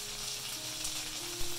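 Steady, close sizzling of fermented bean curd chicken wings frying in a pan over medium heat, with one brief louder pop near the end and no voices.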